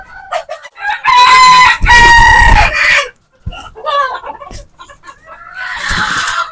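Native desi chickens, with a rooster crowing loudly twice in long strained calls, followed by softer clucks and another crow-like burst near the end; no talk.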